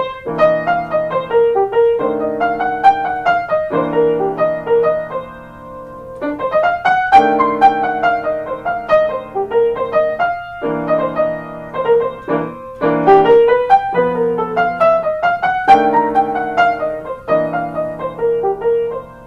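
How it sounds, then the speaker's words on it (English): An instrument plays a smooth legato melody, each note flowing into the next, with sustained chords underneath and no voices. "we want the sound of one note to bleed into the next note."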